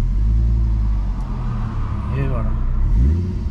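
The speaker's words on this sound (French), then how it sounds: "le petit bouton de démarrage ici. Point mort, mise à feu." Fiat Coupé 20V Turbo Plus five-cylinder turbo engine started by push button and settling into a steady, close, rumbling idle. Someone speaks briefly as it catches.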